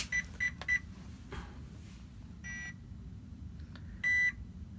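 Arduino-modded Nerf Stryfe blaster electronics powering on: a few short, quiet electronic beeps in a quick cluster, then isolated beep bursts and faint clicks, with no talking.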